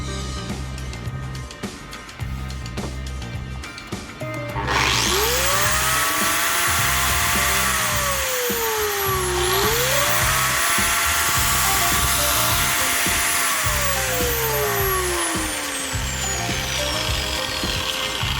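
A Parkside PFDF 900 A1 biscuit jointer spins up from quiet and runs at idle, a loud, piercing high-pitched whine with a steady motor drone that dips briefly and recovers, close by.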